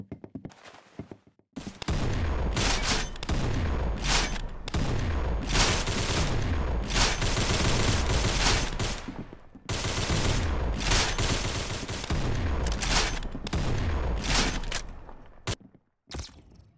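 Video game gunfire rattles in long, dense automatic bursts, loud and close, with brief pauses between the rapid volleys and no speech.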